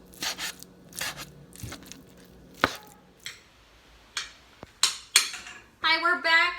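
A knife chopping seafood on a cutting board for a sushi bake, with a series of separate close thuds and scrapes at an uneven pace and a brief clatter near the end.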